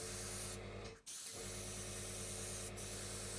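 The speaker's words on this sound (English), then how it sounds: "So I'm spraying all over." A steady hiss of a spray bottle spraying colour onto hydrangea flowers runs continuously, broken by a short pause near the middle and a brief dip later, close and fairly loud.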